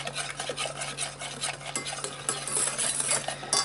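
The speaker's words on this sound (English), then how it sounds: "Get my whisk out. And whisk that up." A whisk beats lime chocolate pie filling in a bowl, with rapid, continuous close-up scraping and tapping against the sides and a steady low hum underneath.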